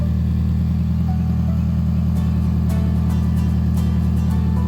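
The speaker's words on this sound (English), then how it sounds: "we went outside and turned on the car" A car engine runs steadily outdoors at a low, even idle after being started, a constant mid-low rumble with no voices.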